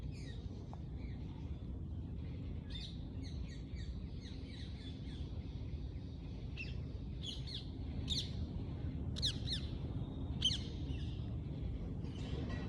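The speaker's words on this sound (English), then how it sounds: "Enjoy the chirping of the birds." Birds chirp and tweet in repeated short bursts over steady low wind rumble outdoors in India, the calls bright and fairly close, scattered irregularly throughout.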